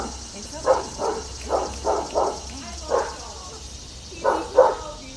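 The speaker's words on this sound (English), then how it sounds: "He's just a guard dog." Guard dog barking in bursts of two or three loud, close woofs with short pauses between them, over a quiet background hum.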